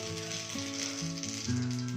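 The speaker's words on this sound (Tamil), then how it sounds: "எண்ணெய் சூடானதுக்கப்புறம் நம்ம கடுகு போட்டுக்கலாம்." Mustard seeds sizzle and crackle in hot oil in a kadai, a steady close hiss over sustained tonal background music.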